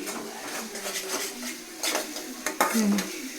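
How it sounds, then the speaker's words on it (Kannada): Onion, ginger and garlic paste frying in oil in a pan, with scrapes and clinks of a stirring utensil over a soft, continuous sizzle, close by. "ಈರುಳ್ಳಿ ಶುಂಠಿ ಬೆಳ್ಳುಳ್ಳಿ ಪೇಸ್ಟನ್ನು ಆಯಿಲಲ್ಲಿ ಎಷ್ಟು ಫ್ರೈ ಮಾಡ್ಕೊಳ್ಳಿ."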